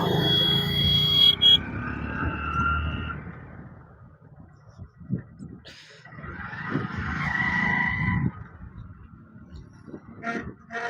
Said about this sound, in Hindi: पहले गाड़ी को नीचे लगाते हैं, साइड में पार्किंग करते हैं।